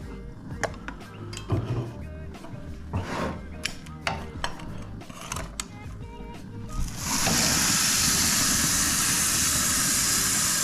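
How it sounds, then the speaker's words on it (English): Prime rib hits a hot 30-inch charcoal grill, bursting into a loud, steady, close hiss of searing after several seconds of light clinks and handling noise. "I'm gonna throw it on, try to get a nice sear"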